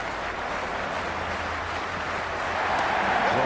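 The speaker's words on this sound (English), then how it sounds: "already the crowd is up and about" Crowd noise at a Big Bash T20 match in the cricket video game Cricket 26, Brisbane Heat versus Perth Scorchers: a dense, steady roar of many voices that swells slightly louder toward the end, with no clear speech over it.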